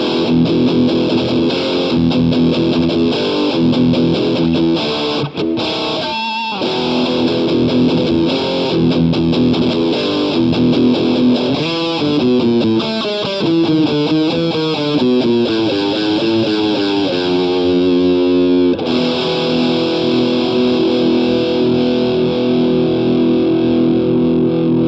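A Telecaster electric guitar with high-output pickups plays heavily distorted, chugging metal riffs and chords, loud and continuous, with a short gap midway and no voices.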